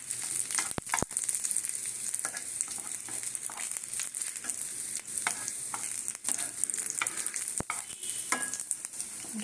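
Vegetables for momo filling fry in a pan, a continuous close sizzle broken by repeated sharp clicks and scrapes of a spatula against the metal, with no voices.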